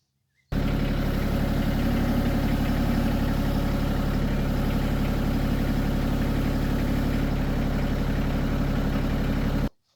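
Compact MT225S tractor idling with a mini baler attached on its 3-point hitch, a steady, loud low engine rumble with even mechanical vibration running unbroken for about nine seconds, with no talk over it.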